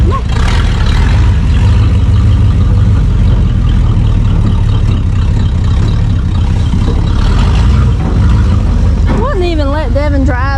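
A 1988 GMC OBS pickup truck engine running right after its first crank, loud close rumbling idle throughout, with a dog whining or yelping near the end and people nearby.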